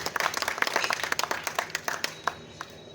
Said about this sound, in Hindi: जो लोग सुनना चाहते हैं एक बार तालियां बजाकर मुझे बताएं।